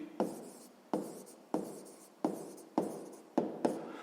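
Writing on paper with a pen or pencil while solving a math problem, heard as six or seven short, quiet scratching strokes at a steady pace, each starting with a small tap.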